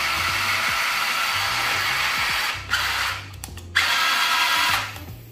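The small electric motor of a 1/12-scale RC Unimog LD-P06 truck, on its faster speed 2 setting, whirs in a loud, steady, high-pitched whine, cutting out briefly twice before spinning up again, with no talking over it.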